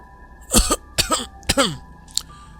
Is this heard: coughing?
yes